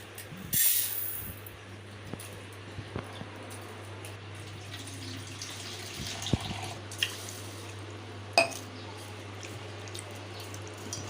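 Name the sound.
washing rice in water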